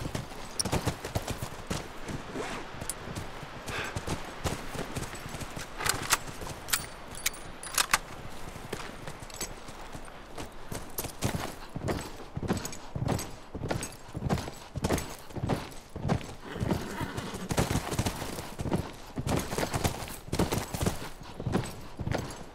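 Steady clip-clop of horse hooves in the video game The Last of Us Remastered, a continuous rhythmic trot with sharp repeated strikes and faint jangling tack, heard alone at moderate loudness.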